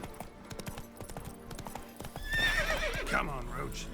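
Roach, the horse in The Witcher 3, gallops with rapid, even clip-clop hoofbeats, then lets out a loud, wavering neigh; someone speaks over the hooves.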